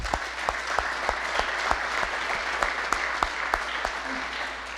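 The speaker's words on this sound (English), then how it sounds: "Coach Kinnison, please give him a round of applause" An audience at a hall of fame ceremony applauds steadily in a large room, with scattered individual claps standing out over the continuous clapping for about five seconds.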